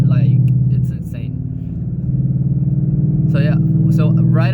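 A modded 2017 Ford Mustang GT V8 drones with a loud, steady low rumble while cruising, heard close up beneath intermittent speech.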